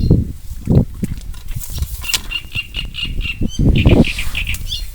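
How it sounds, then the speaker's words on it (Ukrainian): Birds squawk repeatedly in short, bright bursts over a rumbling, windy outdoor background beside a wild pond, with low thumps between calls. "Пташки кипішують"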